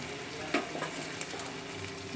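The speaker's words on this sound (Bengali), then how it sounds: "এখন ভেজে রাখা কাতলা মাছটা দিয়ে দেবো" Fried katla fish goes into a simmering curd gravy, a soft sizzle and bubbling with a few light clinks of utensil against the pan, quiet and close.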